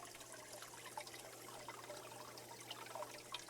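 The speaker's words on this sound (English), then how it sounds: "That's the bell siphon flushing, by the way." Steady rushing and trickling water from an aquaponics bell siphon flushing at a Santa Barbara aquaponics setup, continuous and moderately close, with small bubbling splashes and no talking.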